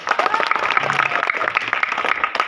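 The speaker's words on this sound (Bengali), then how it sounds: "উত্তর সঠিক হয়েছে, হাততালি।" A small group claps briefly and unevenly after a correct answer at an outdoor quiz on planting and cleanliness, the close dense applause lasting a couple of seconds.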